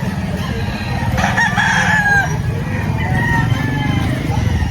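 Chickens cluck and a rooster crows amid a busy poultry market in Lipa, Batangas, the crowing rising clearly over a dense, continuous din of fowl, with voices murmuring in the background.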